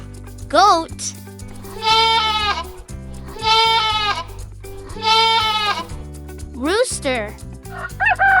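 A goat's bleat, several wavering, pulsing calls in a row, loud and close, set over a steady bouncy children's music backing with short sung or voiced sounds between the calls.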